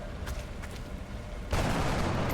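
A flank gunshot in XCOM: Enemy Within, heard as a short build of faint clicks followed by a sudden loud, sustained blast of gunfire.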